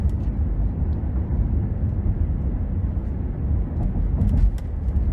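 A 2018 Mercedes-Benz GLC 300 4MATIC driving in Sport Plus mode, heard from inside the cabin: a steady low engine and road drone, rising slightly near the end, with no talking.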